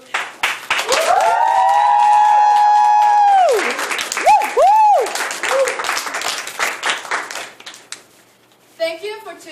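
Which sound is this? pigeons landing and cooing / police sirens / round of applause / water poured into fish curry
round of applause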